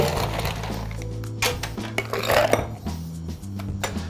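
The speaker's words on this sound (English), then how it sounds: "Gonna add a little ice." Ice clatters and clinks into a cocktail shaker for a whisky sour in a few quick, close rattling bursts, with a low hum underneath.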